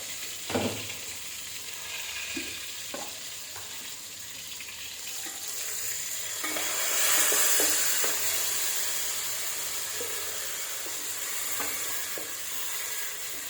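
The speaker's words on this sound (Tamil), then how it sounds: "இப்போ நம்ம அரைச்சி வச்சுருக்க தக்காளியை அதில் ஊற்ற போகிறோம்" Ground tomato paste is poured into a hot pan and sautéed for a Kaanagathai fish kuzhambu, a steady soft sizzle that swells in the middle, with a few clicks and stirring scrapes along the way.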